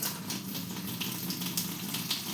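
Water poured into a mixer grinder jar for grinding a Tamil fish curry masala of chilli and coriander powder, a continuous soft splashing trickle, close and fairly quiet.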